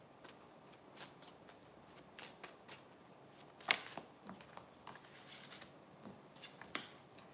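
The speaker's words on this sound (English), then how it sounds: "I'm going to go ahead and start throwing cards down." Tarot cards laid down one after another during a love reading, giving soft papery slaps and light shuffling at an uneven pace, with a couple of sharper card snaps standing out from the quiet background.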